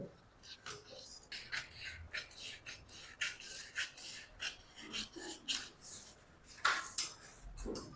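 Scissors cut through blouse fabric up close in a quick series of rhythmic, rasping snips with short pauses between strokes, and no one talks.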